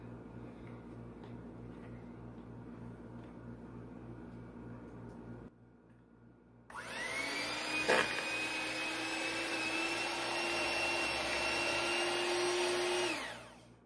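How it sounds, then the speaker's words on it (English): Electric hand beater whirring loudly as it creams sugar into butter in a bowl, starting up after a quiet kitchen hum and running at a steady high-pitched drone for several seconds before cutting off. "I'm going to cream them together now. I'm going to use my beater for that."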